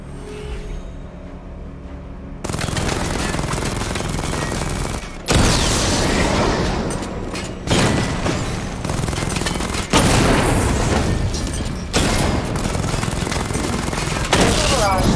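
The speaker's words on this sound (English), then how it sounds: "Destroy targets to charge up weapon energy and activate missile barrage" Missile barrage and weapon fire in Batman: Arkham Knight, heard as a loud, dense series of booming volleys and rapid gunfire bursts, arriving in repeated waves after a quieter opening.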